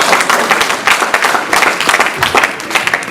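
A church congregation applauds continuously for a few seconds, dense, loud clapping from many hands filling the room.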